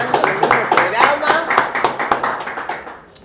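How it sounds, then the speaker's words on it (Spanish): Studio audience clapping to welcome a guest, Cristian Díaz Vidal: a steady run of rhythmic hand claps, fairly close and loud, fading toward the end. "vamos a recibir con un muy fuerte aplauso a Cristian Díaz Vidal"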